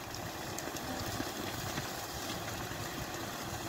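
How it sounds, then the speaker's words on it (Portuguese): A Valtra A850 tractor engine drones steadily while loading sugarcane on a sloped field, a continuous, even rumble with no voices. "Trator embolando o cano aí."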